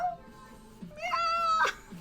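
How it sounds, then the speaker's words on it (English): A cat gives a couple of clear meows, one short and one longer and higher, close by. "he was meowing"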